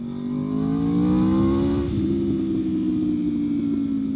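A V4 motorcycle with an untuned Leo Vince exhaust revs hard, its engine note climbing steadily for nearly two seconds, then drops into a loud, rough, steady idle rumble, close and alone.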